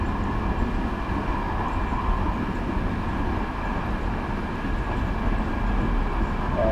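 A train in the Train Simulator game, riding the Surf line on approach to Anaheim, slows down on the track. It gives a steady, loud rumble of wheels on rail with a faint high squeal, and no voices.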